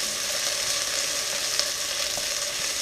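Onions sautéing in a very hot pan give a steady, close sizzle and crackle that holds evenly throughout, with a few faint stirring clicks and no voices.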